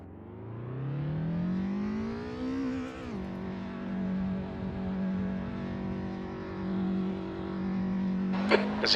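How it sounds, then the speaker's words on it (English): Race car in Assetto Corsa, an Opel Kadett at a sim racing grand prix, engine revving up steadily through a gear then holding a droning whine as another car closes in, ending with a few sharp clicks. "There's a car approaching."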